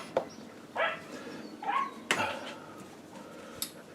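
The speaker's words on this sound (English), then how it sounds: "Sorry if you're a dog owner and you've got a yappy one." Yappy dogs bark nearby outdoors on a moor, about five sharp, separate barks and yips spaced across a quiet background.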